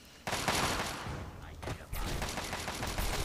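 Gunfire in the video game Fallout 3: a rapid fusillade of sharp shots in dense bursts with a brief lull mid-way, loud and close over a noisy backdrop.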